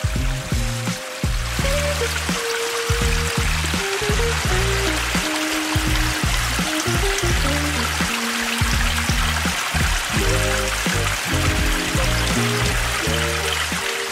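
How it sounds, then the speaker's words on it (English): Bubbling water feature fountain at the entrance of a landscaping display garden, a steady continuous splash and trickle of water running alone throughout, with low tonal hum layered beneath it. "This water feature is actually one of the first Aqualand bubbling water features we put in."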